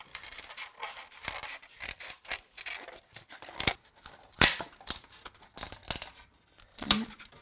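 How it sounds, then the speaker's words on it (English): Scissors snip and crunch through a plastic washing-up liquid bottle, a run of irregular sharp cuts with crinkling and tearing of the plastic between them, close and fairly loud, with no talking. "Now take some scissors and cut it out."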